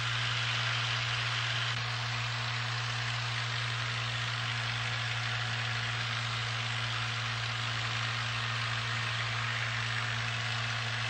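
A P-40 warbird's engine heard from inside the cockpit in flight as power is fed back in after a stall, a dense steady drone with strong low hum and broad wind roar, continuous and loud.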